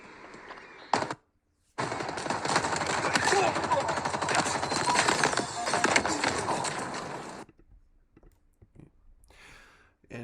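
Halo video game gunfire crackles in dense rapid bursts for several seconds, close and loud, after a short opening shot, then fades to faint game sounds.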